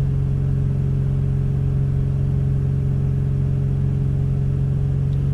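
Nissan Xterra engine held at a steady fast idle around 3000 rpm during fault diagnosis, a loud continuous droning hum with a strong steady low tone and no change in pitch.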